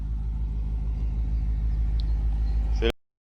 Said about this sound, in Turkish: Duyduğunuz gibi egzozumuzda e, C63 AMG kadar sesli olmasa bile idare ediyor.